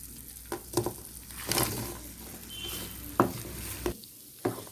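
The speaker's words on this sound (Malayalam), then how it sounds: "എഗ്ഗ് നന്നായിട്ട് ഫ്രൈ ചെയ്ത് വെച്ചത് ഇതിലേക്ക് ആഡ് ചെയ്തിട്ട് നന്നായിട്ട് മിക്സ് ചെയ്യാൻ പോവാണ്" Fried eggs being stirred into a thick sauce in a pan for egg 65, a soft sizzle running throughout with scraping spoon strokes and a few sharper clinks against the pan, close and moderately loud.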